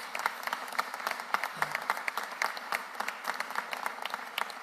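A city hall audience gives another round of applause for Trish Wellenbach, a thinner spread of individual claps, distinct and moderately close, pattering unevenly for a few seconds.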